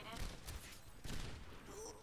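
Video game gunfire in a fast shooter match, a few quick bursts of rapid shots near the start and again after one second, fairly faint and compressed, with low background noise between.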